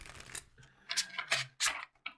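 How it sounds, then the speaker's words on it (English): A new, thick Da Vinci Enigma tarot deck being shuffled by hand, heard as a few quiet, close papery riffles and soft card slaps in short separate bursts. "I'm going to shuffle one more time"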